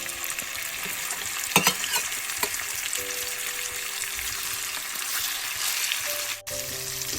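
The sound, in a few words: prawns frying and sizzling in oil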